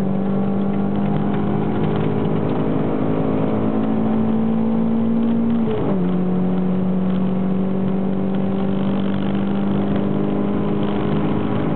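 A car at full throttle on the Estoril race track gives a loud, steady engine drone that holds high, drops sharply once at a gear change, then carries on strongly, with no voices.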